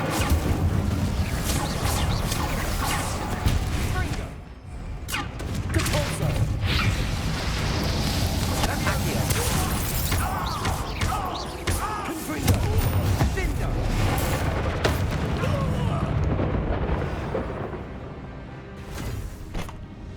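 Incendio fire spell cast in the Hogwarts Legacy video game: loud, sustained roaring blasts and crackling bursts of magical fire with heavy booms, continuous over twenty seconds, with game character voices speaking in between.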